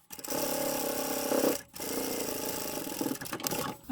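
A sewing machine top stitches along the fold of a fabric tote bag, running in a fast, steady needle chatter for two close bursts separated by a brief pause.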